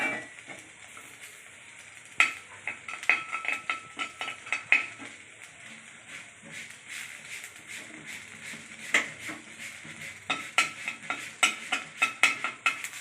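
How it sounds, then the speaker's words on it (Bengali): Drumstick leaves fry with black cumin in a pan, giving a soft continuous sizzle broken by frequent sharp clicks and scrapes of a utensil stirring against the metal, close and fairly loud, with no talking. "এই দেখেন আমি এইভাবে ভেজে নিচ্ছি।"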